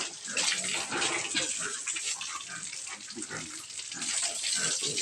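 Water gushes steadily into a tub in a pig pen, a continuous splashing stream heard close, with faint farm noises underneath.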